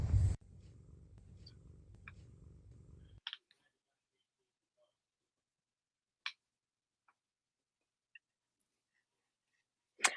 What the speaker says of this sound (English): I love that you could hear her purring in the video.